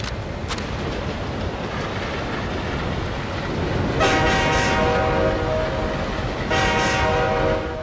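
Freight train horns in the video game Quantum of Solace, Montenegro train level: a rumbling rail roar throughout, with two loud sustained multi-tone horn blasts arriving in the second half, close and prominent.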